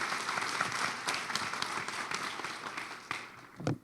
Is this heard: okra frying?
no